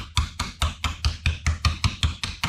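Rapid, evenly spaced hammer blows strike a metal lid being formed into a square for an Optimus 99 stove kit, about ten sharp ringing impacts in a quick steady rhythm, close and loud with no voices.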